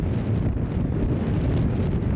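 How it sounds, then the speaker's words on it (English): Gusty wind buffets the microphone outdoors on a cold, wet February day in the Yorkshire Dales countryside, a loud continuous rumbling roar with no talk. "You can hear the wind."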